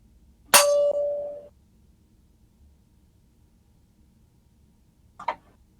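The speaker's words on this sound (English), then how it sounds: "we'll start once I ring the bell" A meditation bell struck once, ringing out with a clear sustained tone that fades over about a second, then a fainter second touch a few seconds later in a quiet room.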